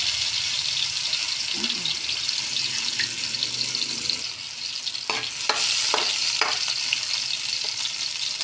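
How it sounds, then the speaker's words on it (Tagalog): Saluyot (jute leaves) fry in a hot pan, giving a steady broadband sizzle that carries through the whole stretch with no voices. A few sharper crackles or stirring knocks break in near the end. "Ayan guys, magluto na tayo ng saluyot."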